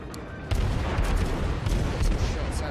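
Naval guns firing in World of Warships with a British low-tier ship, a deep rumbling boom followed by a sustained low roar and distant thuds.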